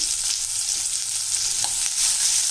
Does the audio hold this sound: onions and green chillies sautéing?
yes